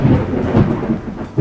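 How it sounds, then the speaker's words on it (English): A thunderstorm just outside a window, with a deep, loud rumble of thunder rolling over steady rain, swelling and easing across a short stretch. "Or if there's literally a storm happening right outside your window."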